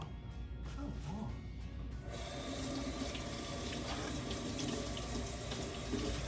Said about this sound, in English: Rinse this onion off.